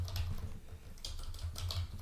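Typing on a computer keyboard while entering a formula in Excel, a quick close run of light key clicks in short bursts, fairly quiet, no talk.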